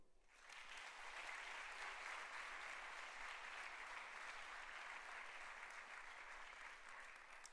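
At a senior awards night, a crowd bursts into applause for an award recipient. The clapping is dense and continuous, rises quickly and holds steady for several seconds.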